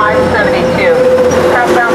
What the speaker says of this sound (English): Amtrak train